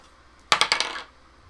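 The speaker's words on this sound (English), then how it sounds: "And rolls a 3 on the dice." Dice tumbling across a tabletop in a quick clatter of four or five close, bright clicks that fade within half a second, otherwise quiet.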